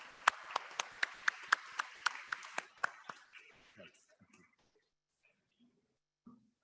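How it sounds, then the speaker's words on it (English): Clapping at an upper elementary presentation day ceremony. It is a regular run of about eleven sharp, evenly spaced claps close by that stops after about three seconds, followed by faint murmurs and near silence. "Big round of applause, please."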